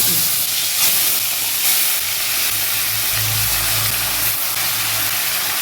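Chicken pieces drop into hot oil for Kolkata-style biryani, giving a loud, steady sizzling hiss that runs the whole time with brief bursts of spitting, and no one speaks.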